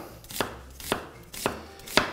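A knife finely chopping onion on a cutting board: four crisp, evenly spaced chops at close range, with quiet gaps between them and no talking.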